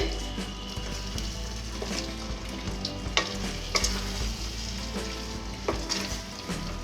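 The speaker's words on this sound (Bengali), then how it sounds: "চিকেনটাকে ভালো করে নাড়তে হবে, ভালো করে মশলার সঙ্গে মিশিয়ে দিতে হবে।" Chicken pieces sizzle and fry with spices in a pan while a utensil stirs through them, giving scattered scraping clicks over a steady low sizzle.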